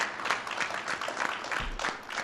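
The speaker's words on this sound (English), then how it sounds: "Let's give them all a round of applause for their tremendous leadership" An audience gives a round of applause at a Toys for Tots holiday giving event, dense, continuous clapping at moderate volume from a crowd, steady for a couple of seconds.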